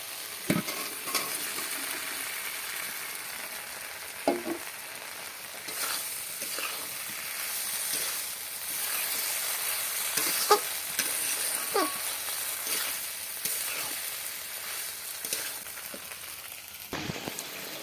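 Mustard seeds and half a tomato fry in ghee with whole spices, giving a steady close sizzle scattered with sharp popping crackles and occasional stirring scrapes, with no voices.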